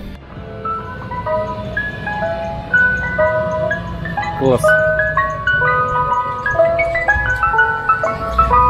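An ice cream truck driving along a street plays its bright chiming tune, a steady run of electronic notes over traffic rumble, with a nearby voice talking over it.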